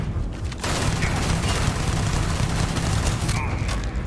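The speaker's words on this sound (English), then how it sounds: "Where are we getting shot from?" Continuous gunfire in the video game Starfield, a dense roaring fusillade with booming blasts that runs almost without pause, and a voice talks over it.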